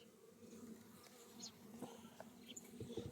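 Honeybees buzz softly around an open hive during an inspection of a weaker three-frame colony, a continuous low hum with a few individual bees droning close by.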